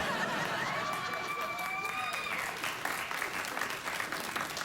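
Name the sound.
studio audience cheering and applauding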